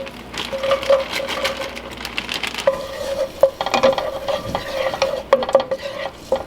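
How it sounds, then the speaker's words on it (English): Chopped frozen vegetables sauté in a pan with loud, close sizzling, while a utensil repeatedly scrapes and taps against the metal as they are stirred. "So I'm just going to get those in here to saute up"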